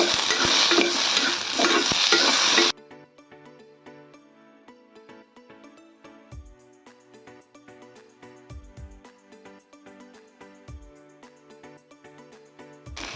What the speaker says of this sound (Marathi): आपला कांदा छान परतून झाला आहे यातच आपण थोडं एक मिनिटासाठी थोडासा पण परतून घेऊया